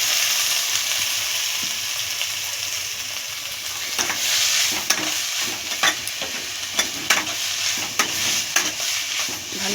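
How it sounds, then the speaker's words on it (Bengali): Shredded cabbage fries in hot oil for chaumin with a steady bright sizzle, and a spatula scrapes and stirs through it in repeated clicks and knocks. "বাঁধাকপিটা তেল দিয়ে ভেজে নিচ্ছি।"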